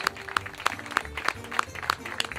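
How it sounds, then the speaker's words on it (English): Sparse, spaced claps ring out at a regular pace at an evening event, roughly one sharp clap every third of a second, over low crowd murmur and voices. "a special round of applause to them for the evening that they put together for us"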